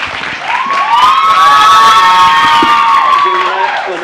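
A crowd of secondary school students cheers and whoops in a sustained, loud swell with some clapping mixed in, lasting the whole moment before easing off slightly.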